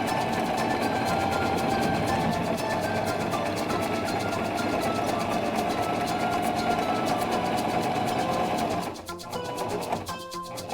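A Singer mechanical sewing machine runs steadily, stitching a line with a fast, even mechanical whir and rapid needle clatter, loud and close. It stops near the end, leaving only faint residual sounds.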